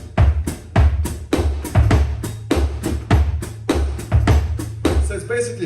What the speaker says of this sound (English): This is called the Firma foot drum